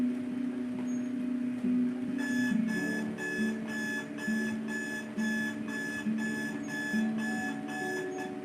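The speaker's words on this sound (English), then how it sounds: "as she turns off her alarm" An alarm clock beeps in regular repeating bursts in a bedroom scene of a television drama, loud and rhythmic over a background tone, then it is switched off.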